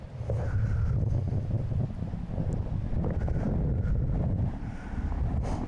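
Strong downstream wind buffets the microphone on a riverbank while fishing on the River Nidd, a continuous low rumbling roar with slight gusting and no voices.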